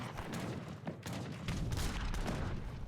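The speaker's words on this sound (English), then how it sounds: "Heavy cannons just getting spammed here as well" Heavy cannons fire repeatedly in a real-time strategy battle as Russia, sounding as a muffled, rumbling barrage of overlapping thuds and booms with no clear gaps.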